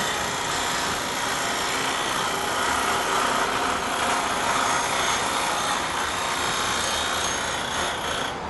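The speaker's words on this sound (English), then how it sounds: "My only focus is to keep this gouge in the center of the wheel that you don't want to pop off." A woodturning gouge is held against a grinding wheel, giving a continuous close hissing grind that holds steady for several seconds with slight swells as the tool moves across the wheel.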